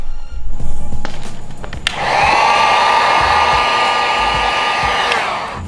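Heat gun warming tint vinyl over a car tail light, a steady airy roar that starts abruptly after a couple of seconds of quieter handling noise and holds close and loud before cutting off.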